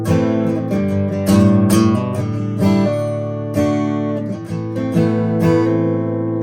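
Electric guitar plays a riff using hammer-ons, a steady repeating pattern of sustained chords with clear note attacks, loud and close with no talking.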